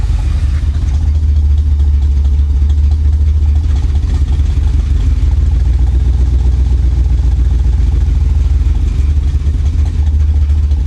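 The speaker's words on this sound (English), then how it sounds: "When it revs up, it actually sounds really good until it stumbles like this." A Chevy Corvette V8, rescued from a Florida swamp, runs loud and close in a steady low rumble, mostly idling with occasional revs, with no talking.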